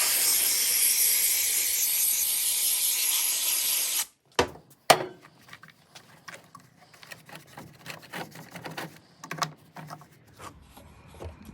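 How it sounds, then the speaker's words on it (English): A loud, steady spray of aerosol brake cleaner hisses for about four seconds onto the top of a leaf blower's gas tank, then cuts off, leaving scattered clicks, taps and handling noises. "we're going to brake clean the top of the gas tank off"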